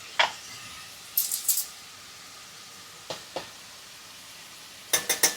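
A spoon stirs turmeric into spinach dal in a pan, giving a few brief, faint scrapes and clinks spread over a quiet, soft sizzling background.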